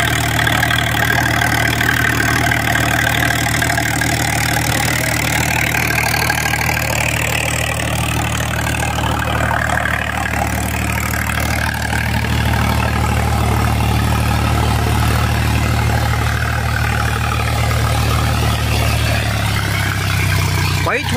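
A new Eicher 551 tractor's diesel engine runs at a steady idle throughout, a loud low rumble with an even throb, with voices occasionally talking over it.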